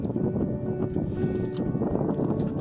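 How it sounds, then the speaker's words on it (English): Wind gusting steadily across a sailboat, a continuous low rushing roar with buffeting on the microphone and no pauses. "Just the wind again."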